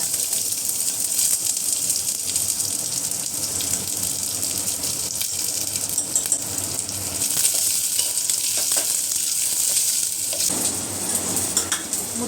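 Mustard seeds, cumin and chopped onion sizzle and fry in hot oil in a home kitchen, a steady crackling hiss with stirring that runs unbroken for the whole stretch, no voices.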